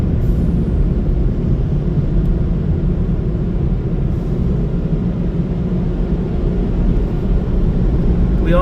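Motor City Washworks Dry and Shine blowers at a car wash roar steadily and loudly as one continuous, dense rush of air that holds an even level throughout.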